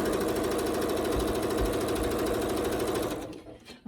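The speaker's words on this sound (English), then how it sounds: "So here's the first side done over here, sewing the second side on." A sewing machine runs steadily at speed stitching fabric triangles, a close, continuous rapid mechanical whir that cuts off near the end.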